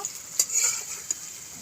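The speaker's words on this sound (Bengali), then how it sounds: "লঙ্কা কুচি, এখন লাল লাল করে ভেজে নেব।" Chopped green chillies and onion fry in oil with a bright steady sizzle, punctuated by two quick spatula clinks against the pan.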